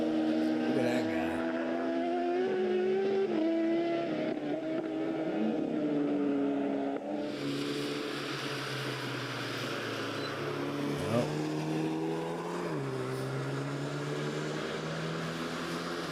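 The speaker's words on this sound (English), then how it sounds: "A little Honda goes right by him." A small Honda car drives past on a race track, its steady engine drone rising and shifting in pitch as it goes by, loud and continuous, with people talking over it.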